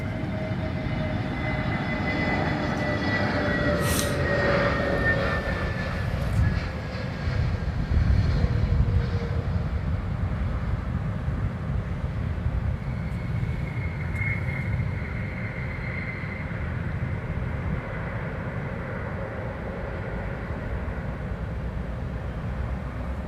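At Heathrow Airport, an aircraft engine spins up with a steady broadband roar and faint rising whine, heard from a distance amid continuous airport rumble, with no voices.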